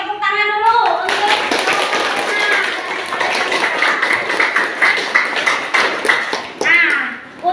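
Classroom applause during a ninth-grade science lesson in Indonesia, with a group of students clapping hands together in a dense, steady patter for several seconds, a teacher's voice briefly heard at the start and end.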